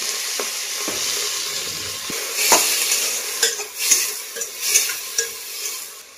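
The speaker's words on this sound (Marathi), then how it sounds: "मटकी आहे ना छान अशी ना मी ह्या तेलामध्ये परतून घेतलेली आहे" Sprouted moth beans stir-fried in oil with garlic, curry leaves and onion, with a soft steady sizzle punctuated by several scraping stirs of a spoon against the pan.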